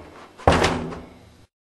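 An apartment back door swings shut with a single solid slam, close and loud, followed by a short fading rattle and the quiet of the room.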